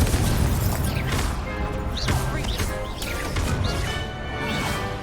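Confringo and Incendio spell blasts in the Hogwarts Legacy video game: a run of loud, heavy booming bursts and crashing impacts that follow one another in quick succession.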